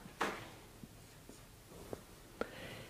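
Pen or pencil writing a decimal number on paper, with faint, close scratching strokes and a few small taps spaced over a few seconds in a quiet room.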